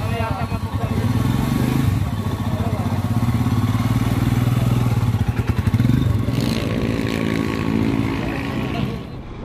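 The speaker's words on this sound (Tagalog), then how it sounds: "nakasakay ngayon tayo dito sa Himalayan Royal Enfield" Royal Enfield Himalayan 411 motorcycle being ridden, its steady engine drone and road noise continuous and close throughout, with a rougher thumping stretch midway.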